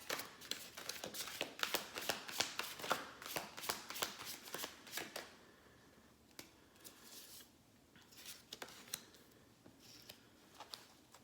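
A deck of Fairy Godmother Oracle cards is shuffled close to the mic in quick riffling bursts for several seconds, then slower, softer card handling and taps, fairly quiet with no talking.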